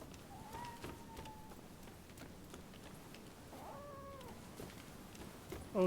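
A cat meows in the video game Rise of the Ronin: two distinct drawn-out meows a few seconds apart, fairly faint over a quiet ambient background, with a soft thump at the end.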